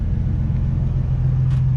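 A car idles while warming up on a California evening, giving a steady low rumble close by with a slight rise in engine tone near the end and no talking.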